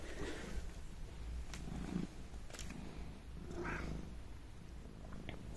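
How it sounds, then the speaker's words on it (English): A domestic cat purrs close by, a soft, continuous rumbling pulse with a few faint rustles and small noises around it. "I hear you purring."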